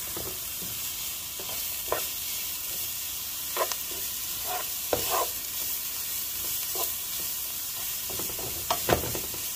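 Potatoes fry in a pan for potato and carrot enchiladas, making a soft, even sizzle and hiss with occasional light scrapes of stirring, fairly quiet and without talk.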